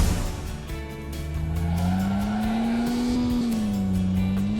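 Racing cars in the mobile game Lithuanian Racing whine steadily with a rising and falling engine tone, joined by tire squeal and skidding, loud and continuous throughout.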